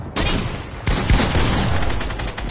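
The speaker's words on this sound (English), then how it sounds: "Wait, why is everybody shooting at me?" Gunfire breaks out in Fortnite Battle Royale: rapid, overlapping shots burst in sharply, pause briefly, then resume as a loud, sustained fusillade close by.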